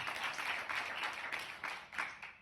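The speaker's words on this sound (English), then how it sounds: "can we give him another round of applause?" Applause from an audience at a film screening Q&A in Ivybridge for A Return to Oz, a steady roomful of clapping that swells in pulses and carries on alone for a few seconds.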